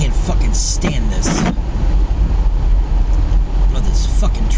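Steady road traffic rumbles around a car driving on a wet, lightly snowy road during a snowstorm in Maple Grove, a continuous low engine and tire roar with a few brief higher bursts and a person talking over it.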